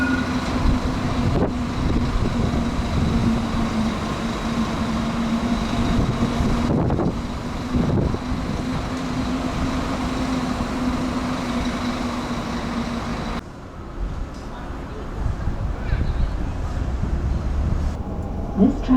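A Sydney train runs between stations with a loud, steady rumble and a sustained whine from the motors, then a sudden drop in the noise partway through before the din resumes.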